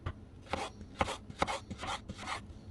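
A knife chops potatoes into chunks on a cutting board in about six close, dull thuds with a steady rhythm, alone with no voice.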